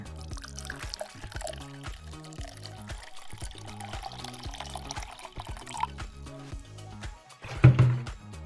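Vinegar pours steadily into a glass spray bottle with a trickling, gurgling sound over light background music, ending in a brief louder splash near the end.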